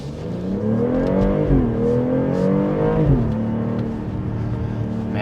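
A BMW X3 M40i launching hard in Sport Plus mode, its engine roaring loud and close with rising pitch through two quick upshifts, then holding a steady strong drone as it pulls.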